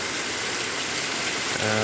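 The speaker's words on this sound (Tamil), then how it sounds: "கொஞ்ச நேரத்துக்குள்ளே இந்த முருகப்பெருமான் அருளால் நல்ல மழை பெய்யுது." Steady rain falls in a village during a downpour, a dense even hiss throughout, with a faint low tonal hum entering at the very end.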